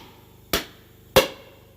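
Two sharp metallic taps from a small hammer on engine valve keepers to seat them, about half a second apart, close and crisp against a quiet background.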